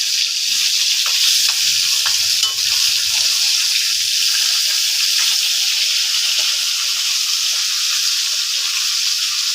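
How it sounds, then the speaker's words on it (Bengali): A fish head fries in hot oil and is lifted out, a loud, continuous close sizzle with bright hiss and a few faint scraping stirs under it. "এদিকে মাছের মাথাটা ভাজা হয়ে গিয়েছে। এখন আমি মাথাটাকে তুলে নেব"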